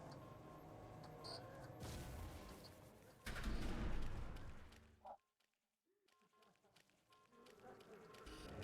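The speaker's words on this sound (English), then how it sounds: "Hear footsteps. Oh, that's a lot of footsteps." Many footsteps patter through the horror game Supplice under rumbling background noise and music, which cut out suddenly into near silence before faint sound creeps back.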